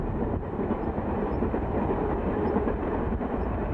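Train rolling along the Buëch valley railway on the Alpes line beyond Sisteron, a steady loud rumble with rhythmic wheel clatter heard from on board or close by, no voices.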